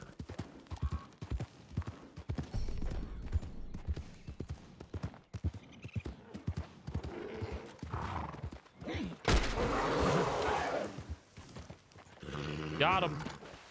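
Horse hooves clip-clopping in the video game Red Dead Online, rhythmic thuds at close range with a neigh or whinny, while a person talks intermittently over them.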